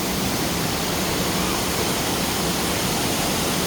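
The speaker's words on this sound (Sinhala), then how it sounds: "මේ අර උඩහ වලෙන් එන වතුර පාර තමයි මෙතනින් බැහැගෙන යන්නේ." Water from an upper pool rushes down a stream at Mulatiyana waterfall, a steady, dense roar of falling water with no voices.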